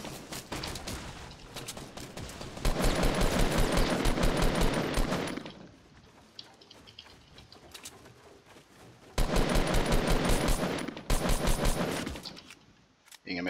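Automatic gunfire in the video game Fortnite rattles in long rapid bursts, loud and close, separated by a quieter stretch of distant shots and game sounds, with someone talking over parts of it.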